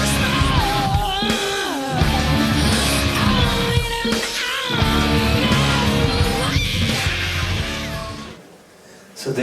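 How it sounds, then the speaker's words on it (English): Rough growling vocal effect in singing: a harsh, gritty, raspy voice held over loud musical backing, sustained with brief dips, then trailing off at the end. "So this is the sound of growl."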